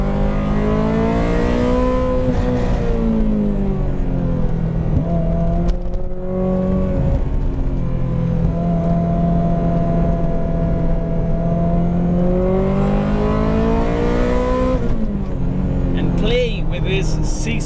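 A Ferrari F355 with a six-speed manual gearbox, driven hard on a twisty road, gives a loud, steady engine roar whose pitch climbs and falls through revs and gear changes for the whole stretch.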